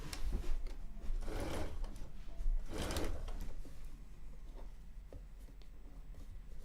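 A sewing machine stitches a quilt seam at a center unit, running in steady close mechanical bursts with a rapid rhythmic whir that pauses briefly between runs.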